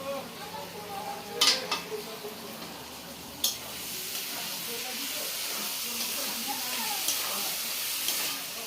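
Spiced rohu fish head and potatoes sauté in a pan with a steady sizzle and hiss, a couple of sharp utensil scrapes and clinks early on, all fairly quiet and close.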